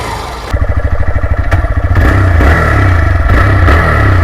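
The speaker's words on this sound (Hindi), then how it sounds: "ग्लैमर का जो है वो एक टिपिकल कम्यूटर वाला एग्जॉस्ट नोट देखने को मिलता है।" A Hero Glamour 125cc commuter motorcycle exhaust thumps in a fast, even pulse at idle, then rises into a louder, steady drone as the engine is revved, heard close and alone.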